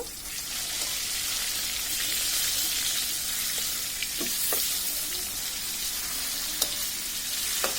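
Pangas fish frying in hot oil, a dense, loud, continuous sizzle with a few faint clicks and taps as the pieces are flipped.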